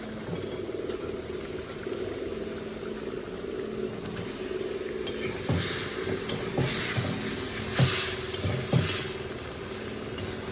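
Fish stir-fried with spices in a pan gives a low, soft sizzle under a steady hum, with spatula scrapes and clinks growing more frequent in the second half; no speech.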